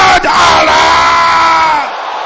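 A large church congregation shouts a prayer together during a healing and restoration prayer service, a loud, dense, sustained roar of many voices that fades slightly at the end.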